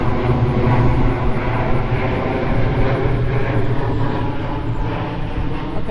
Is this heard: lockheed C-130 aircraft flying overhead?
yes